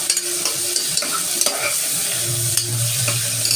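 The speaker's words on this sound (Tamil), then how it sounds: "தக்காளி நல்லா வதக்கினோங்க." A tomato being sautéed in a pan for veg biryani makes a close, steady sizzle broken by repeated scraping strokes of the stirring spoon, with no voices.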